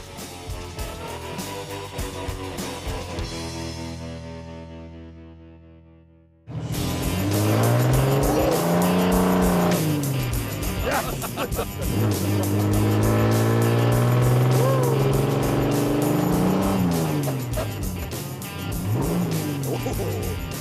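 A Ford Galaxie rally car engine roars loudly, revving up and down through the gears after a brief cut, with tires squealing as it drives hard.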